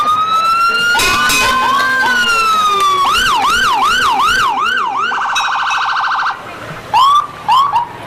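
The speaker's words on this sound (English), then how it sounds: "I can't talk over the sirens" Loud, close fire engine sirens in a 2011 Fourth of July parade in Chautauqua County cycle through wailing sweeps, rapid yelps and a pulsing tone, overlapping one another before breaking into short bursts near the end.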